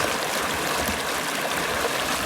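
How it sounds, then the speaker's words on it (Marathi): River water flowing steadily in a Konkan village in Ratnagiri district, a continuous close rushing and gurgling stream sound with no voices. "पाण्याचा आवाज बघा कसा क्लिस्टर क्लिअर येतो"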